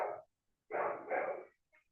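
A dog howls faintly in the background of a quiet room, giving two short, rough bursts of sound followed by a brief whimper.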